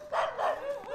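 A single dog gives a short, yelping bark lasting under a second, fairly close and clear, with no one talking over it.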